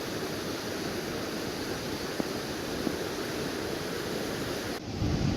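Ocean surf at an Oregon coast beach, a continuous broad wash of waves with some wind noise on the microphone, steady and fairly loud without anyone speaking.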